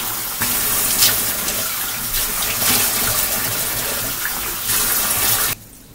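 Tap water runs and splashes steadily for about five and a half seconds while an egg face mask is rinsed off, close and fairly loud, then cuts off abruptly.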